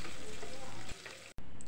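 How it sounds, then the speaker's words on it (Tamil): Large onions fry in coconut oil for chicken biryani, giving a dense, loud, continuous sizzle close by. It briefly drops quieter near the end and cuts out for a moment. "பெரிய வெங்காயம் போட்டுக்கோங்க."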